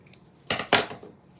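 Scissors cutting through folded material for a primitive Halloween centerpiece, two crisp close snips in quick succession with a faint tick after, nothing else around them.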